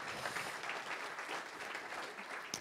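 A conference audience applauds, with dense, steady clapping that sounds moderately distant and continues evenly throughout without a clear voice over it.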